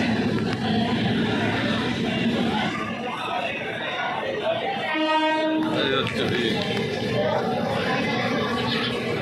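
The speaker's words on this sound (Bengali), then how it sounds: "এই যে আমাদের ট্রেন ঢুকে গেছে" Howrah Barmer Express arriving at a crowded Indian railway platform, its rumble spreading beneath steady crowd chatter, with a brief horn blast midway.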